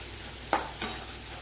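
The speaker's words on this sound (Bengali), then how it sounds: "ভেন্ডিগুলো দিয়ে একটু নাড়াচাড়া করে জল দিয়ে দেবো।" Okra tossed into a sizzling, fried-down spice masala in a pan, with two short stirring scrapes over a soft, steady sizzle.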